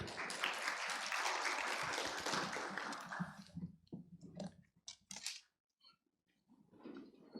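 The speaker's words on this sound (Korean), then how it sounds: "큰 박수 부탁드리겠습니다" An audience at an academic research presentation session applauds, dense and steady for about three seconds, then thins to a few scattered claps before quiet.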